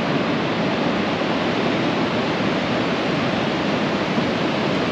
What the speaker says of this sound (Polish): czy ten wiatr nie wieje, taki ostry